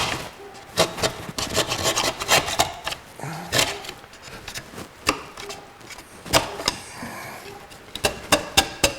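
Sharp sheetrock rasp shaping wood on a twisted hollow form, giving loud, quick scraping strokes in an irregular rhythm, close up with no voices.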